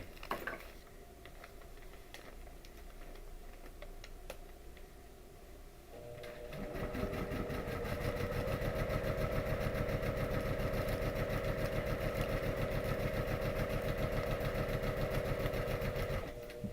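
A sewing machine runs the final seam of a pieced quilt block, its needle hammering in a rapid, even rhythm after a few quiet seconds of handling, loud and close with no talk over it.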